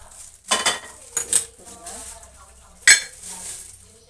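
A metal kadai is set down on a kitchen stove, giving a few clanking metallic knocks and clinks spread over four seconds, close and fairly loud, with no speech.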